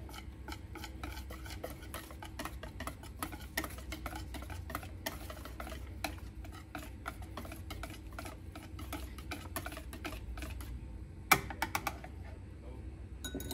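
Crepe batter with melted butter is whisked in a bowl: steady, quiet stirring and light clicking of the whisk against the sides, continuous and close, with one sharper clink near the end.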